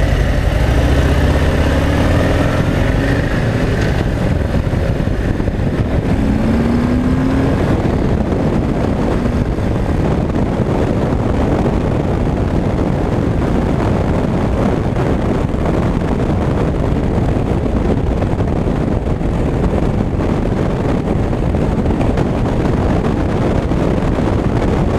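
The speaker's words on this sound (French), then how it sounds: "entendre un son d'origine sur Harley" A 2018 Harley-Davidson Heritage Classic 114 on a test ride gives a steady, loud engine rumble blended with heavy wind rush, with a brief rising engine note early on and no talk.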